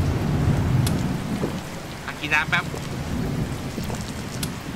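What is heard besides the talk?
rain and thunder in the video game The Slaverian Trucker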